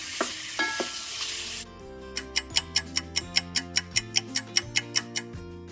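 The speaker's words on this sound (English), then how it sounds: "Give it a quick stir. And we're going to let the sausage brown about 6 minutes." Andouille sausage sizzling in a pan and given a quick stir, a loud close hiss lasting under two seconds before a steady ticking rhythm with music takes over.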